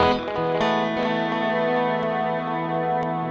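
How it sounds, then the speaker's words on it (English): A VFE Klein Bottle stereo delay pedal with its pre-control turned up and mix turned down, pushed into distortion: a sustained, buzzing, harmonically rich distorted guitar tone with repeated attacks, loud and continuous. "There's some distortion into that."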